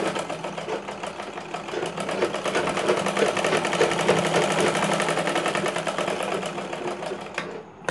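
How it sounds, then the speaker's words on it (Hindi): Sewing machine stitching a katori blouse, a steady rapid mechanical rattle of the needle running continuously at close range, fading out abruptly at the end with no talk. "यहाँ पर हम मजबूती के लिए एक एक सिलाई और चला देंगे।"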